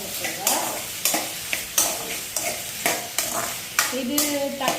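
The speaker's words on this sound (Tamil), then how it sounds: "கொஞ்சம் உப்பு போட்டுட்டு இதை நல்லா மிக்ஸ் பண்ணி வச்சுக்கோங்க" Tomatoes are stirred with salt in a pan for tomato chutney, giving repeated scraping spoon strokes at a steady rhythm over a soft sizzle, close and fairly loud with no talk.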